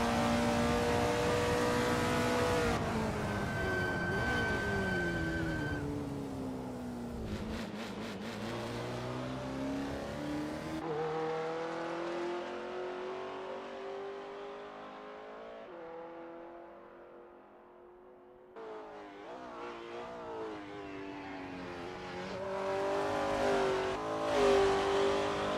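Engine of a Mini Cooper GR.2 race car in the video game Assetto Corsa, on the 1960s Princen Park Long circuit, droning steadily as it revs up through the gears and drops back, with shifts and a brief quieter lift-off.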